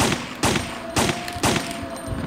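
Gunfire in the PlayStation game Resident Evil 3 Nemesis, four evenly spaced loud shots with echoing tails, close and alone without talk.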